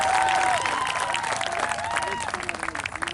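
Graduation audience at Peekskill High School applauding for the principals, a dense wash of clapping with some cheering, steady and loud before tapering slightly toward the end.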